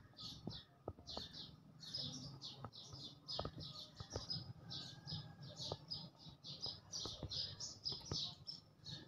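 A pair of birds feeding on neem inside a home kitchen chirp in quick repeated bursts, fairly faint, with soft scattered taps and clicks between calls.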